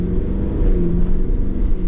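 An armored 700-horsepower Cadillac Escalade V cruises along an ordinary road, giving a loud, steady engine drone and low road rumble from inside the cabin, with no voices.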